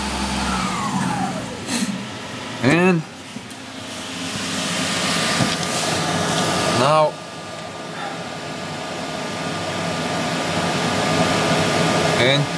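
An electric motor driven by a variable frequency drive runs at 4000 RPM, producing a loud, continuous mechanical whir with a steady tonal whine and a few brief sweeping chirps.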